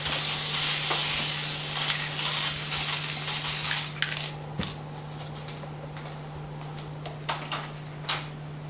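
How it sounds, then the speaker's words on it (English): Fast Grab Tacky Spray sprayed onto the top of a pumpkin, a loud, close, continuous aerosol hiss lasting about four seconds, then breaking into a few short bursts over a steady low hum. "I'm going to take this Fast Grab Tacky Spray, and I'm going to spray it on the top of that"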